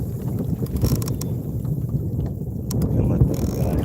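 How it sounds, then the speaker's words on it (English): Kayak paddling on a lake while bass fishing, with soft rhythmic water swishes and splashes close by under steady wind noise across the microphone. "So I'm going to paddle to another set of rocks."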